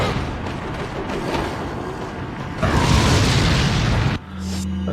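A grenade goes off in the Resident Evil 4 video game, a loud rumbling blast that swells midway and cuts off sharply, leaving a low hum behind.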